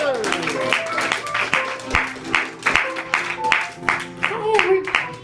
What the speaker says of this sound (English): clap your hands, one and all